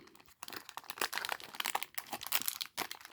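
Foil wrappers of 1990 Leaf Series 2 baseball card packs crinkling and tearing open in close, busy bursts, with brief pauses between handfuls.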